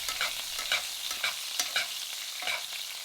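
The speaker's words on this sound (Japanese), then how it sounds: "このように骨のところに油がかかるようにしながらゆっくり" Bone-in ribeye basted with hot fat in a pan, quick bursts of sizzling and spattering as the fat is spooned over the meat, close and fairly quiet with no voices.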